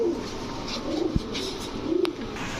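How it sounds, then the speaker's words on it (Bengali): A male Cheetah Military pigeon coos nearby, giving a couple of soft, throaty rolling calls over faint background noise. "দেখেন ফুল চিতা মিলিটারি একটা নর কবুতর এটা"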